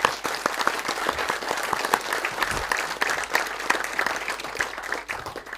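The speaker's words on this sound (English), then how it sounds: "So let's give a big round of applause to Dr." Audience applause at an outdoor military weekend event at Eisenhower National Historic Site, a dense, steady clapping from a crowd sustained throughout, with light cheering mixed in.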